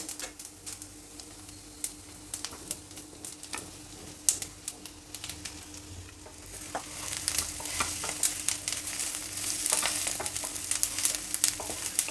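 Alu vadi pieces fry in a sesame seed tempering, quiet at first with scattered sharp crackles, then a denser, louder sizzle with rapid popping spits.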